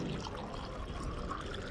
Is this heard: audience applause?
no